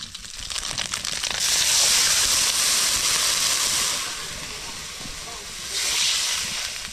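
Water poured into a hot pan of fried fish sets off a loud rushing hiss of steam that swells, eases and swells again.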